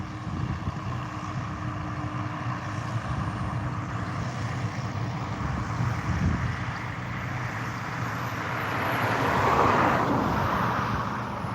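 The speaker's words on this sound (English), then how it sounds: "We found a helicopter chopping some trees up." A helicopter carrying a giant pole saw cuts trees, heard as a steady, loud rotor and engine roar that swells slightly near the end, with no talk.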